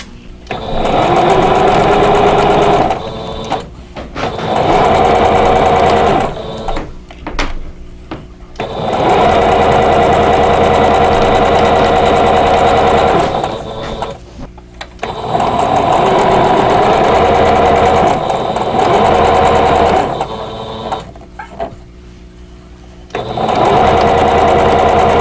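Sewing machine stitching vintage quilt block pieces together, running in steady whirring bursts of several seconds each, separated by short pauses, loud and close.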